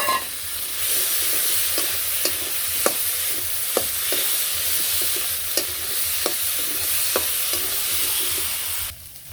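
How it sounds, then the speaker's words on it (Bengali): Potatoes stir-fry with garam masala and spices in a pan, giving a continuous sizzle punctuated by regular sharp scrapes and taps of a spatula, close and loud, then cutting off abruptly. "তো মশলার সাথে আলুটা ভালো করে কষানো হয়েছে"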